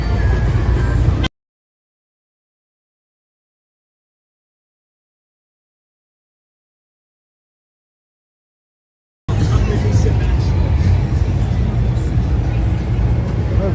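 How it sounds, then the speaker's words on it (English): Heavy Friday street traffic on one-way 6th Avenue in New York City, a dense, steady roar of passing cars and buses heard in two stretches separated by a long gap of total silence. "Pretty intense traffic."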